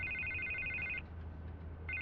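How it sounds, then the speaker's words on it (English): A telephone rings in the video game Batman: The Telltale Series: a bright electronic ring tone sounds for about a second, pauses briefly, then starts again over a low background hum. "I can't get the phone to stop ringing"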